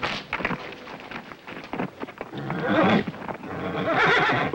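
Horse whinnying loudly amid steady clip-clopping hooves in an Old West town scene, with the neighs rising toward the end over continuous hoof and movement noise.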